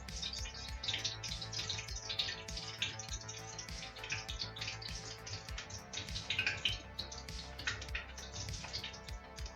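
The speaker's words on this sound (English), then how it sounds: "That is bubbling away like nobody's business." Prawn balls fry in hot oil with a dense, continuous crackle and sputter of bubbling, rapid sharp pops layered steadily throughout at close range with no voices.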